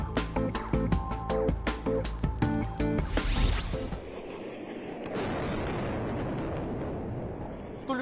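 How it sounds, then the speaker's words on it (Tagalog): Heavy booming explosions in a rapid series during the Israel–Hamas war, followed by a low roaring rumble that lingers in the background. "Tuloy-tuloy ang mga pagsabog."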